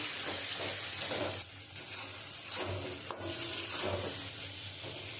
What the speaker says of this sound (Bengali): দিয়ে আমি মশলাটা দিয়ে খুব সুন্দর করে কষিয়ে নেব